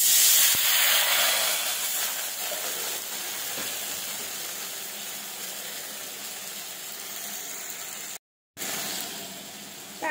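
Water poured into a hot pan of vegetables with ginger powder makes a loud, steady steam hiss that slowly fades over several seconds and cuts out briefly near the end, with no talking.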